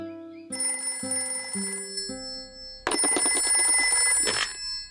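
A telephone rings in a Peppa Pig cartoon with bright electronic tones, first a stepping series of short notes, then a loud, dense trilling burst that stops abruptly.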